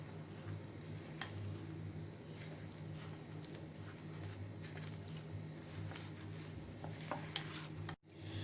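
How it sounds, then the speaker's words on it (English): Crushed biscuits and melted butter are mixed in a bowl for a no-bake cheesecake base, a faint soft scraping and tapping that runs steadily and ends with a brief clunk. "I'm going to add 2/3 cup of melted butter into it, and we'll mix it."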